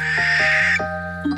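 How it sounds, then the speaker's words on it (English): A barn owl gives a harsh, sustained shriek, loud and close, with a few rasping breaks near the end instead of a hoot. "I think this one is a barn owl."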